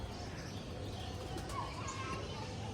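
Pigeons circling over a rooftop give faint soft coos and a brief chirp against a steady outdoor hum, with someone talking throughout.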